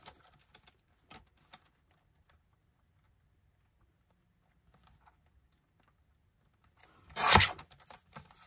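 Scissors trimming paper scraps from a scrap box, heard as a short burst of crisp snipping and paper rustle after long near-silence with a few faint taps and rustles scattered through.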